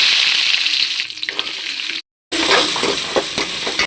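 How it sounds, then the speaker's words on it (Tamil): Garlic and onion dropped into hot oil with mustard seeds and fenugreek for a fish curry, crackling and sizzling loudly up close, broken by a brief silent gap before the frying resumes. "அதில் கடுகு கொஞ்சம் போட்டு, வெந்தயம் கொஞ்சோண்டு. இப்போ நம்ம பூண்டு வெங்காயம்,"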